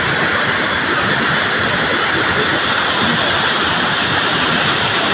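A powerful, steady roar of rushing water, loud and unbroken, a torrent pouring from the Lumbayao dam.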